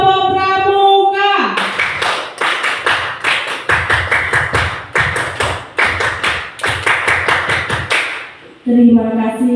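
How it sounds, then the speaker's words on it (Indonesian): Scout-style rhythmic group clapping at a school scout troop meeting, performed twice as sharp patterned bursts of many hands, with a voice speaking briefly before and after. "2 kali tepuk pramuka."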